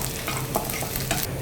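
Dried red chillies and curry leaves crackle and sizzle in hot oil with browned shallots, stirred steadily in a pan, a dense continuous frying hiss with short scraping bursts.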